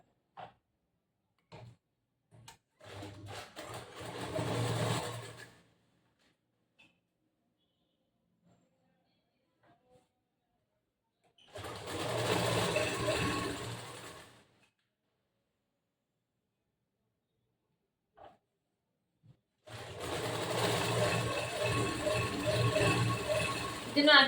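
Sewing machine stitching blouse fabric up to the edge while making a boat neck blouse, running in three separate whirring bursts of a few seconds each, with near-silent pauses and small clicks between them.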